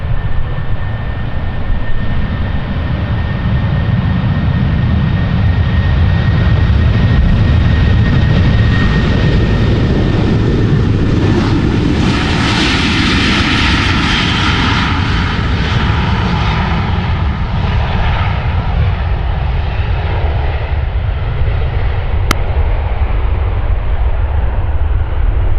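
Jet aircraft departing Schiphol runway 36L, the Polderbaan, a loud, continuous engine roar with a droning whine that swells as it passes near mid-way, then fades slowly, with no talk.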